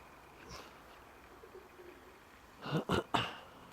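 Soft, faint cooing from young pigeons, followed by a few louder rounded coos near the end, in a quiet setting.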